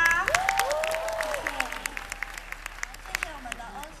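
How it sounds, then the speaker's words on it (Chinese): An audience at a singing contest in Zhong Li applauds a performer, a dense patter of clapping that grows sparser as it tapers off, with a voice speaking over the start. "那请各国观众朋友给他一点掌声吧。"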